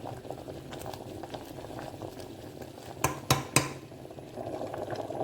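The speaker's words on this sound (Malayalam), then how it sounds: "കറിയൊക്കെ നല്ല തിളച്ച് വന്നിട്ടുണ്ട്" A vegetable kurma curry with coconut simmers in a pot with a soft, steady bubbling, broken by three sharp metallic clinks of a spoon against the rim.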